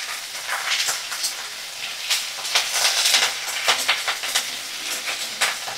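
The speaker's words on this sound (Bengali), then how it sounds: "সব সবজিগুলো দেখো ভাজা করতে দিয়েছি, বিনস, গাজর, ফুলকপি আর ব্রোকলি একটু ভালো করে ভাজা করে নিই।" Beans, carrots, cauliflower and broccoli fry in hot oil with a loud, crackling sizzle that pops and bursts unevenly throughout.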